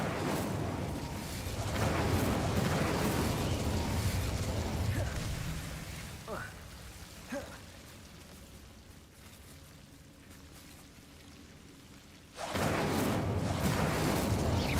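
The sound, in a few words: Incendio fire spell in video game Hogwarts Legacy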